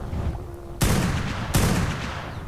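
Gunfire in ARK: Survival Evolved: two sharp, loud blasts about three-quarters of a second apart, each decaying into a noisy rumble over a constant background of game ambience.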